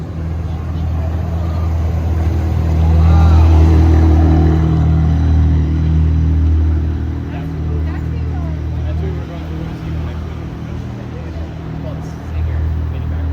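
A Czinger 21C hypercar cruises along Rodeo Drive in Beverly Hills, its engine a steady low rumble that swells slightly and holds amid street noise, with people talking over it.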